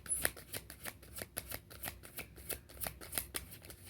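Tarot cards being shuffled by hand in a quiet room, a fast run of soft riffling flicks and light slaps repeating steadily and close up, with no talking.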